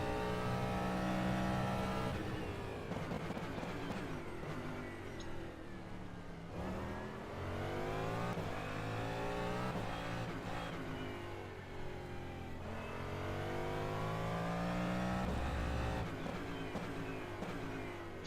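A Cadillac DPi hypercar laps the Nürburgring in rFactor 2, its engine revving hard through repeated upshifts and downshifts. The steady, loud onboard engine note rises and falls in sweeping pitch runs.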